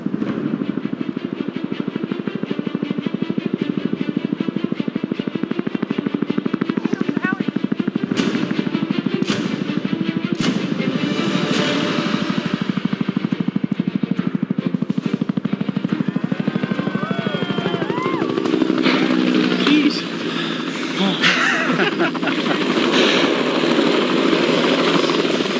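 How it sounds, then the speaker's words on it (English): A helicopter's steady rotor thrum and engine whine fill the whole stretch, loud and continuous as it passes overhead, with faint wind and movement noise. "the helicopter was just told to fly back to that valley and look for us"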